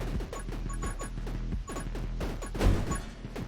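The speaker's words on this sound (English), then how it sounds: "Ooh, that was a big explosion." A big explosion in a video game bursts loudly near the end, over dense, busy game action with repeated impacts and crashing sounds throughout.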